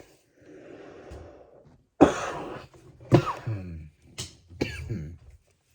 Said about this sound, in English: Oh, no, I'm going to cough.